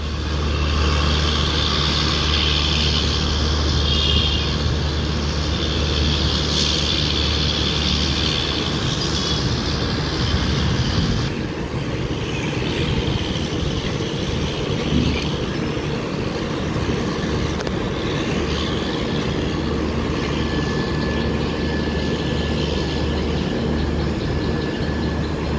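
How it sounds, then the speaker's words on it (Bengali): Down Garib Rath Express train passing on the line toward Hooghly station, a loud, continuous rumble and rattle of wheels and carriages lasting throughout, steady and close with no break. "ডাউন গরিব রথ এক্সপ্রেস।"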